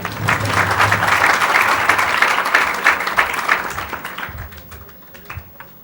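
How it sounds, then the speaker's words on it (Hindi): A burst of hand clapping, steady and fairly loud for several seconds, then thinning out to a few scattered claps as it fades. "अरे वाह, ताली बजाओ"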